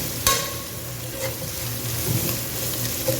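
Green chillies frying in oil for a bachelor-style mutton biryani, a steady close sizzle with light stirring scrapes and one sharp clink near the start, no talking.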